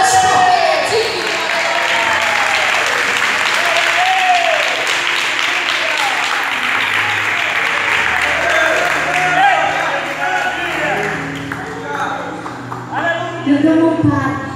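A church congregation at a Pentecostal service claps hands in praise. The applause is loud, dense and steady, runs almost the whole time, and a few voices and cheers mix in before it thins near the end.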